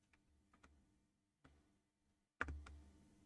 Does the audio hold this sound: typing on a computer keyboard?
yes